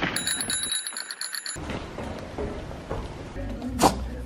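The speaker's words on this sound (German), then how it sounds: "Einmal klingeln." A bicycle bell rings in a quick burst of bright, repeated metallic dings near the start, followed by street and rolling noise, with another faint ring later.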